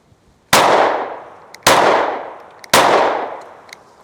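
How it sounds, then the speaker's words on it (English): Three loud, evenly spaced gunshots from a PSA Micro Dagger pistol loaded with an OEM Glock magazine, each a sharp blast followed by a long ringing decay, about one second apart. "I'm shooting very low left"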